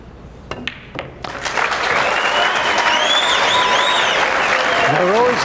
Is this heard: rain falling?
no